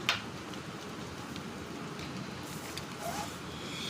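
Soft, steady rainfall with a constant hiss, a few faint patters and drips standing out now and then.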